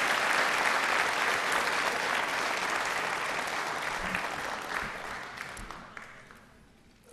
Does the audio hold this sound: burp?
no